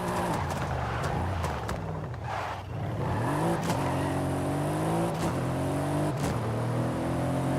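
Mercedes-AMG GT 4-door V8 in Forza Horizon 5 revs continuously with a deep burbling tone, rising and falling through several throttle blips over steady loud engine drone.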